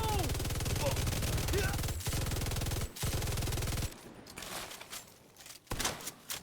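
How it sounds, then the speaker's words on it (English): Automatic video game weapon firing in a rapid continuous stream until the magazine runs dry, loud and steady with brief breaks, then trailing into scattered distant shots and clatter. "I'm just gonna keep firing quite often,"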